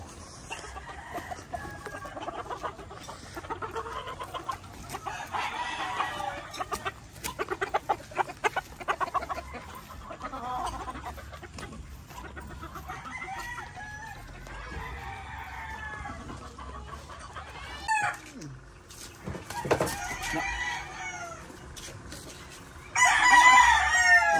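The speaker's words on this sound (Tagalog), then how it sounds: "Pakain ng manok ni Lupin." Several chickens cluck on and off, and a rooster crows loudly toward the end, with farmyard rustling in between.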